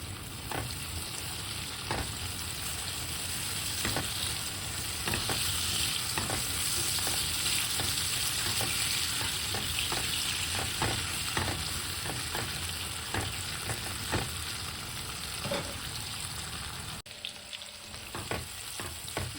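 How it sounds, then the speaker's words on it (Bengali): Onions sizzle steadily in hot oil, a continuous close frying hiss with small pops and the scrape of a spatula stirring throughout, no voices. "এবার দুই মিনিট আমি পেঁয়াজটারে কিছু তেলের মাঝে ফ্রাই করে নিচ্ছি"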